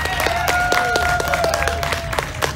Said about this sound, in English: Would you please give her another warm round of applause?